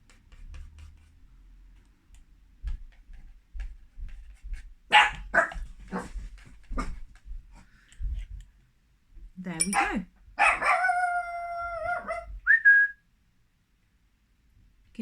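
Teddy, a small guard dog, barks in short bursts somewhere in the background, mixed with a person talking and a brief whistle-like tone.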